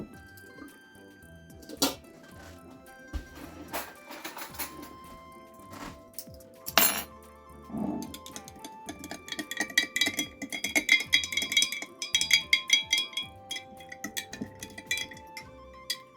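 Cabbage and salt being stirred for homemade sauerkraut, heard as scattered wet squishes, soft clinks and ticking taps against a bowl, busier and denser toward the end, close and fairly quiet.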